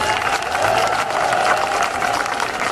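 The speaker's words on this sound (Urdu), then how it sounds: "امبرین ملک کے لیے تالیاں." A crowd applauds at a PTI political election campaign rally in Mehmoodabad, dense, sustained clapping mixed with cheers and murmuring voices that holds loud and steady throughout.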